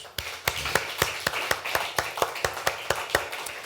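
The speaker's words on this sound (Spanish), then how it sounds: "De una ofrenda de palmas a tu Dios" A church congregation claps together in a steady, even beat, sharp hand claps landing roughly four times a second, loud and close, with no talking over them.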